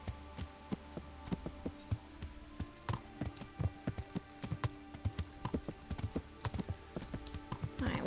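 White horses in the medieval game Kingdom Come: Deliverance clop their hooves in a steady, close rhythm of crisp repeated hoofbeats that carry on without a break.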